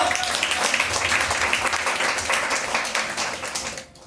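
Loud, dense clapping from a church congregation at a Sunday worship service runs steadily for about four seconds, then fades off at the end.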